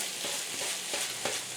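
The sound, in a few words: corned beef frying and being stirred in a pan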